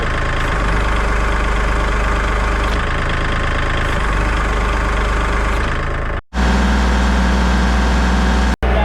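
A Kubota 2502 tractor fitted with an LA526 loader idles its diesel engine in a loud, steady, close drone, broken by a brief dropout about two-thirds through.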